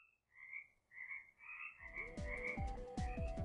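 A frog from a video game croaks in a series of short, resonant calls, first spaced apart, then a quicker run of deeper croaks, clear and close.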